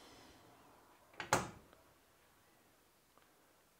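A metal door on an HBM modular workshop cabinet swings shut with one soft, close thump, followed by a faint tick and quiet room tone.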